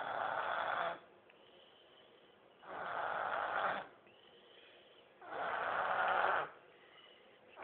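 A sleeping woman snores in slow, regular cycles, three long raspy inhalations separated by quieter breathing, close and clear with no talking.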